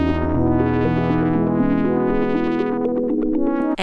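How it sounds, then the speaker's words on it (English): Von Gaan Replay synth sequencer and arpeggiator plays a bright, buzzy stepped melody over a sustained bass line, rich in harmonics and effects, loud and upfront with no talking. "it's the Von Gaan Replay, and it's a synth sequencer and arpeggiator that can sound like this"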